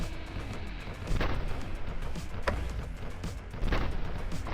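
Cannon fire in a turret defense video game: three spaced booming blasts over a continuous rumbling battle din, fairly loud and close, with no voices.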